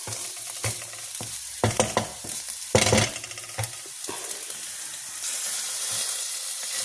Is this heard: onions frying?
yes